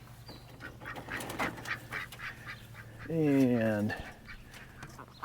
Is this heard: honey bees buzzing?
no